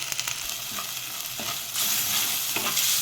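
Chicken curry frying in a clay pot, a steady broadband sizzle with stirring scrapes and clinks throughout, growing louder and denser about halfway through; no voices.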